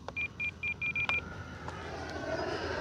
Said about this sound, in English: That is our battery alarm.